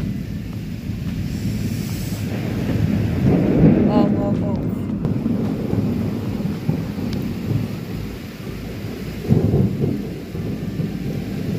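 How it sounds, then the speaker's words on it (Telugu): Heavy rain falling with gusts of wind on an open concrete road, a dense constant roar of rain with rumbling wind buffeting the microphone, swelling and easing. "ప్రశాంతంగా వాతావరణం ఉండి వాన పడుతుంది"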